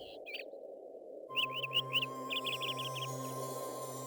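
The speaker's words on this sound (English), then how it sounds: "The bird ate the crumbs and perched to sing in the branches of a tin tree." A small bird sings a run of quick bright whistled notes, two bursts of repeated chirps over a steady low hum and music-like drone.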